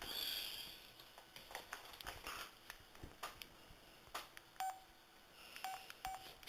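Phone keypad dialing tones, a series of short, separate beeps in irregular rhythm, heard close against a quiet background, with faint clicks between presses and no talking.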